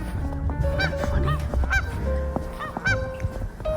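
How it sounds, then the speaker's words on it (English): Geese by a pond honking repeatedly, loud and close, several birds calling in quick overlapping bursts with no talk. "And those geese are just a honking."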